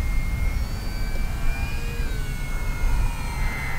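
A small FMS Kingfisher RC model plane's motor whines steadily overhead, its pitch shifting slightly as it flies, over a low rush of wind.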